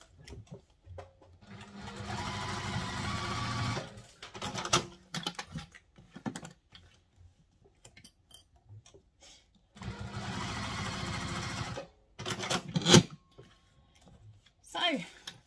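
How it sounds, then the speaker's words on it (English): A sewing machine runs basting stitches across the front panel of a Logan sling bag, in two steady bursts of fast needle chatter separated by pauses, with a person talking between the runs. "just some stitching across to baste it in"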